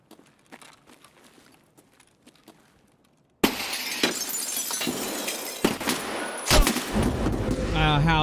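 Gunfire in a first-person shooter video game, a quiet stretch of faint taps and footsteps, then a sudden loud burst of shots and glassy impacts with continuing noisy action.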